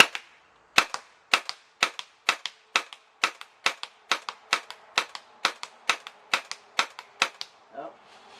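Semi-automatic shots from a CO2 HK 416 replica airgun, about fifteen sharp cracking pops at a steady rhythm of roughly two per second, close and crisp, with a brief murmur of voice at the end.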